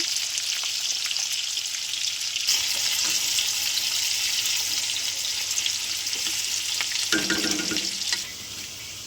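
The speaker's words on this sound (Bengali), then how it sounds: "পেঁয়াজটা ভাজা ভাজা করে নেব।" Chopped onion frying in oil with cardamom and cinnamon for a fish curry, a loud, steady close sizzle with stirring scrapes and a brief watery hiss, fading quieter at the end; no talk.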